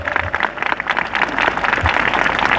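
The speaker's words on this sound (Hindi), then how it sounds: "Come on, give a good clap for our Lord." Church congregation clapping during a worship gathering at a Shanti festival, a steady dense patter of hands that carries on throughout without pause.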